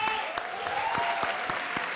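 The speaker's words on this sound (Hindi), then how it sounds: "तालियां।" A studio audience at a comedy show claps steadily, a dense run of hand claps close and loud for the whole stretch, with faint background voices and a thin tone drifting underneath.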